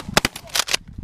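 Shots fired at sandhill cranes during an early-season hunt in Saskatchewan, Canada: a quick cluster of sharp, close cracks within about a second, loud against a quiet field.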